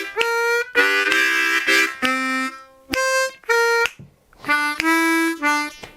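A blues harmonica plays a lick over the IV chord, a series of bright, reedy held notes and bends in short phrases with brief gaps, loud and close with no talking.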